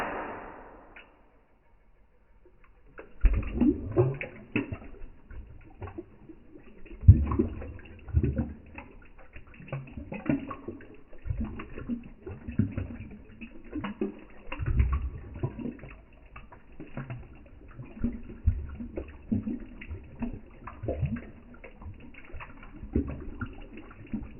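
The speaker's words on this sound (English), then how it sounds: "it is making a lot of noise, but sponge filters do" Boxtech aquarium sponge filter churning water, a busy bubbling and splashing that starts after a few seconds of quiet and carries on steadily and fairly loudly, with irregular gurgles and plops.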